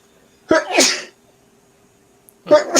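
Two sharp sneezes close by, the first with an audible inhale and burst, a second starting after a short pause.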